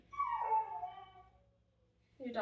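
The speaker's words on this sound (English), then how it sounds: "Your dog is crying because the children went to the park without her." A dog whimpers close by in a single high, falling whine, then begins another cry at the end, fairly quiet overall.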